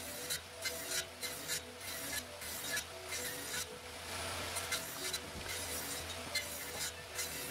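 Saw makes repeated cuts in wood while building a workbench, a rhythmic rasping stroke pattern repeating close by at a fairly steady pace without pause.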